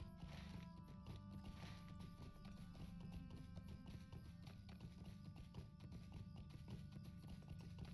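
Steady clip-clop of horse hooves at a riding pace in Lord of the Rings Online, a continuous rhythmic trot over a constant ambient game soundscape with music-like tones, no talk.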